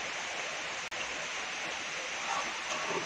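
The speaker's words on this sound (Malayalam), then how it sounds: "മഴയുടെ സൗണ്ട് കേൾക്കുന്നുണ്ടാവും നിങ്ങൾക്ക്." Heavy rain pours outdoors in an even, rushing wash of noise. The wash is fairly quiet and unbroken except for one sharp click near the start.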